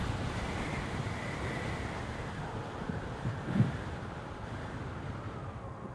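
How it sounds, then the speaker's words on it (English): Wind blows outdoors in a soft, continuous rush with slight gusting, fairly faint and steady throughout, with no voices. "Nice and windy today."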